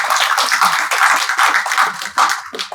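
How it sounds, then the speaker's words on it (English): Audience applause in the chamber of the Ontario Legislative Assembly, a dense crowd of hands clapping steadily and fairly close, continuous for a few seconds with slight swells. "can we please give them a round of applause for showing that kind of leadership?"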